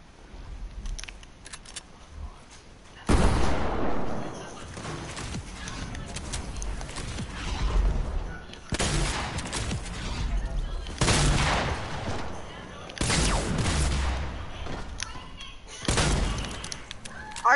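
Gunfire in the Fortnite video game comes in several loud, sharp bursts of rapid shots separated by quieter stretches, with game sounds and faint talking mixed underneath.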